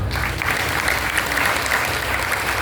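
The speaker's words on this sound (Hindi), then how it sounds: "तालियों में मजा नहीं आया, एक बार फिर से तालियां हो जाएंगी" An audience applauds after a Vedic scholar's speech at the opening ceremony of an Arya kindergarten, a full, steady round of clapping at moderate loudness with no pauses.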